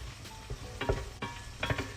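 Garlic frying in a pan for a spicy tomato pasta sauce, a steady soft sizzle broken by a few stirring scrapes close by.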